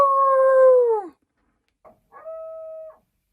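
A coyote howls in the desert outside a van, with a long descending howl, a brief pause, a short yip, and then a steady, sustained howl, fairly close and with no talking.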